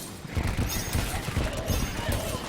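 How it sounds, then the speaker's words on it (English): Ballista cannons fire repeatedly in Terraria, a dense stream of rapid thumping shots and clattering impacts under ongoing game noise, close and continuous. "having all these ballista cannons out, which are giving me some extra DPS to kill off these guys"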